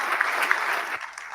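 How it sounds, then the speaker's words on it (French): Applause from a seated audience fills the room, a steady wash of many hands clapping at moderate volume, slightly thinning near the end. "Je vous demande de les applaudir bien fort pour les remercier de leur présence."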